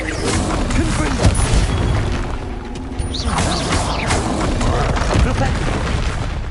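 Booming Confringo spell blasts in the video game Hogwarts Legacy, with loud dense crashes and rumbling impacts running continuously, close and forceful, and a voice shouting partly lost under the noise.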